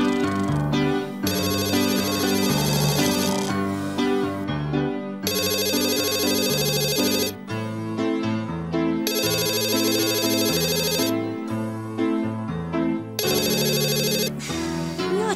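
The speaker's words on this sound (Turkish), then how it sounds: "Niye açmıyor bu telefonu ya?" Telephone ringing in a home, a loud electronic ringtone repeating in regular bursts with short pauses between them, playing on its own without talk.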